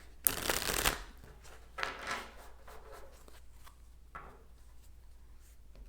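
Tarot cards shuffled and laid out on a table, a burst of riffling followed by softer slides and taps as cards are placed, close and fairly quiet with no talk.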